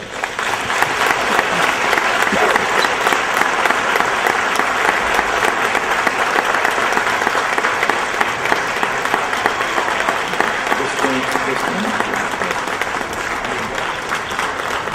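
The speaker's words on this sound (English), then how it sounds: "Let's give him a round of applause." Sustained applause from an audience at a Juneteenth honorary father awards ceremony, dense and steady clapping filling the whole stretch at fairly loud level with faint crowd murmur, no one speaking.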